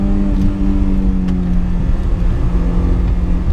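A BMW M3 E30 engine pulls hard in second gear up a tight, hilly back lane, a loud, deep, continuous drone heard from inside the car with no voices.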